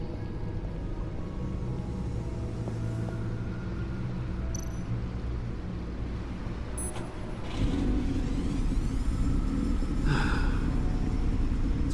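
Deep, powerful engine rumble from a 600-horsepower car in the Batman Telltale game The Enemy Within, a steady low growl throughout that grows louder and heavier partway through, with faint beeps and clicks on top.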